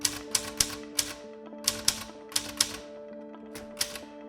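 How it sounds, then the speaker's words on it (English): Irregular bursts of clacking keystrokes from a typewriter, sharp and close, coming in quick clusters with short pauses between them, over a steady background hum; no talking. "I wanted to use the typewriter"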